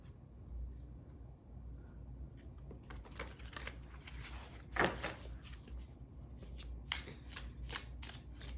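Tarot cards are shuffled close by, their riffling and slapping coming in soft rustles that grow into sharper repeated bursts toward the end, with no talking.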